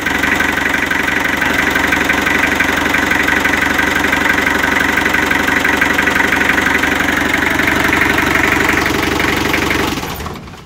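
A Mitsubishi L300 engine suffering blow-by runs at a steady idle, loud and close, with a rough, even knocking churn throughout before it cuts off abruptly near the end.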